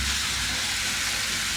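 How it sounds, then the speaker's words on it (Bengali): Potatoes fry in a pan in a home kitchen, giving a constant, close, broadband sizzling hiss with no break. "আর হচ্ছে এখান দিয়ে আলু ভাজি করে নিচ্ছি"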